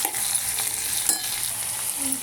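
Onions being stirred as they fry in a pan, a steady close sizzle with scraping stir strokes throughout, no talking.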